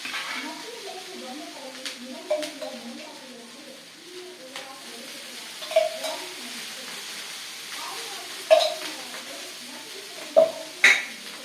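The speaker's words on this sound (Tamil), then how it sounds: "இப்போ இது மேலே கொஞ்சமாக நம்ம எண்ணெயை விட்டுக்கிறோம்" Oil drizzled over a Thanjavur orappu adai, a coarse lentil pancake cooking on a pan, gives a soft steady sizzle, with someone talking over it and a few sharp clinks of a utensil against the pan.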